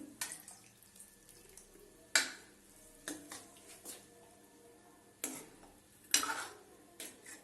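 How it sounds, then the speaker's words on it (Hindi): Water splashes into a pan of cooking turnip kofta curry in a few short, quiet bursts, with light clinks and stirring sounds in between, close up. "और थोड़ा सा पानी हम इसमें डाल देंगे।"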